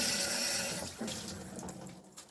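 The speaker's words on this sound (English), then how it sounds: "I'm just going to give them a good rinse, and I will use warm water" Warm water runs from a tap while cloths are rinsed under it, giving a continuous close hiss and splash that shifts slightly as the cloths move through the stream.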